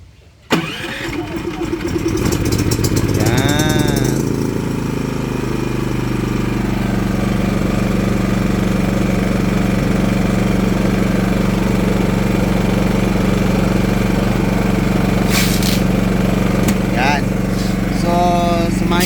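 A Philking 4200 fully automatic inverter silent generator starts with a brief catch, then settles into a steady, loud, close engine drone that hums on throughout with a few light knocks and clatters.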